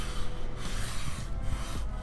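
The metal sole of a hand plane being restored is rubbed back and forth across sandpaper, giving a steady, close, rough rasping sound in repeated strokes.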